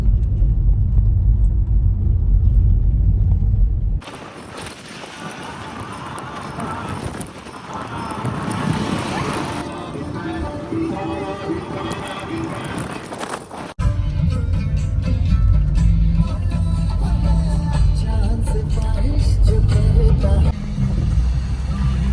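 A car drives along a rural road toward Trambak waterfall near Sapgaon, with a steady low rumble of engine and tyres, heavy wind buffeting across the microphone, and a quieter stretch in the middle.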